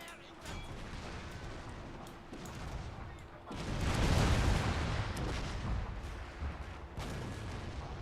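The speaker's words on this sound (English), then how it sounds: "Generals are getting targeted by my artillery" Artillery fire in the strategy game Fall of the Samurai during a battle at Nagasaki, a heavy booming barrage swelling midway through a continuous rumble of distant gunfire.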